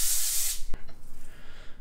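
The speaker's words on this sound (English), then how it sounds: "I always spray whatever baking sheet that I'm using." Coconut oil non-stick cooking spray hisses onto a baking sheet in one close burst lasting about half a second, followed by a sharp tap and a quiet room.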